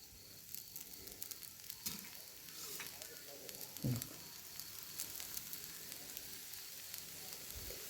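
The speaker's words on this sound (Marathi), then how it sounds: "तेल लावून चांगलं भाजून घ्यायचं" A thin wheat-flour samosa sheet roasting with oil on a pan over high heat, a faint steady crackling sizzle with scattered pops and one soft scrape.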